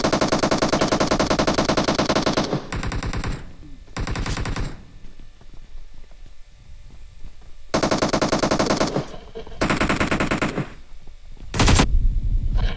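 Bursts of automatic gunfire from the mobile battle royale game PUBG Mobile, loud and sustained in several long volleys separated by shorter gaps, with faint voices underneath.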